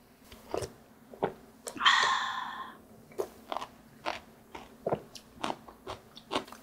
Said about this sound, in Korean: 무가 아주 아삭아삭해요